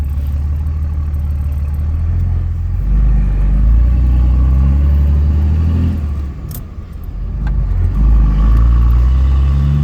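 A 2003 Ram 2500 pickup with a 5.9 Cummins diesel and six-speed NV5600 manual rumbles heavily from inside the cab while driving, engine note swelling under acceleration, dipping briefly as if between gears, then pulling again.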